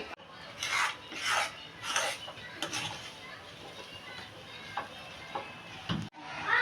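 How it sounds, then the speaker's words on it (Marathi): Puran, a filling of chana dal and jaggery, is stirred in a pan over full heat. A spoon rasps and scrapes in several distinct strokes near the start, then softer, with faint sizzling and brief knocks, up close. "फुल गॅस करायचा आणि असं हलवत राहायचं"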